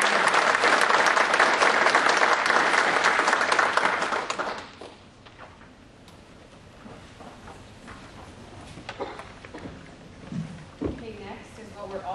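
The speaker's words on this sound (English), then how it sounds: "Let's please give all of our provider partners a big round of applause" A large audience at a graduation ceremony for direct support professionals claps loudly and steadily for several seconds, then the applause breaks off and fades into quieter room noise with a few scattered sounds.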